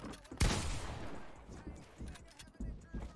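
A pump shotgun blasts once, loud and close, in the video game Fortnite, followed by smaller clattering game sounds and scattered softer hits.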